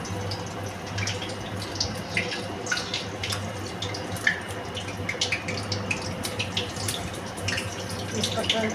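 Bay leaves sizzle and crackle in hot oil while cooking kasuri methi chicken, a steady dense frying hiss with scattered pops throughout, close and moderately loud, with a low hum underneath.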